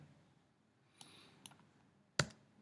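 A computer keyboard being typed on, with a few sparse, faint key clicks and one sharper tap near the end, heard alone in a quiet room.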